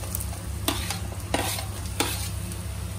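Potatoes go into a pan of onions frying until golden brown. A steady, close sizzle carries throughout, and three sharp stirring scrapes land about a second apart.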